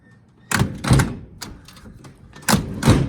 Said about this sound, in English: That's the way you're supposed to shut those doors